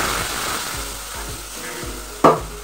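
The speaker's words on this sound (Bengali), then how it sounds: "এবার সেই তেলের মধ্যে সব মশলা ভেজে নিব।" Spices fry in hot oil left from frying potatoes, sizzling loudly and steadily. A utensil makes rhythmic scraping stir strokes, and a sharper clatter comes near the end.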